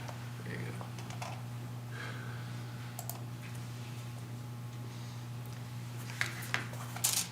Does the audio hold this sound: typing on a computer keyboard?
yes